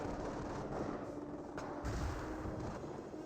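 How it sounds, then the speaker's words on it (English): Naval artillery bombardment in the video game Company of Heroes, a dense, distant rumble of continuous shelling and booms, moderately faint and without speech. "Naval Warfare firing away"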